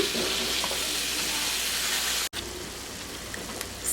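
Mushrooms, onion and minced garlic sizzle in a pan, a loud, continuous hiss heard close up, broken by one sharp dropout midway before the sizzling resumes a little quieter.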